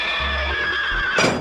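Toy horse neigh sound effect from a Brio Snow White animal play set, a loud electronic whinny running throughout, with hoof clip-clops underneath and a brighter burst near the end.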